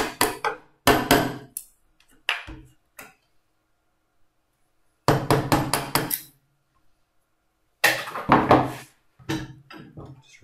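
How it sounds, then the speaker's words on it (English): Chisel being tapped into a wooden birdbox piece held in a vise, about two or three millimetres in, giving short clusters of sharp knocks separated by silent pauses. "we come in with our chisel 2 or 3 millimeters"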